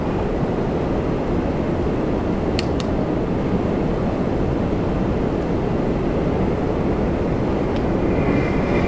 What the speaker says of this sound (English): the WestJet 737 coming in next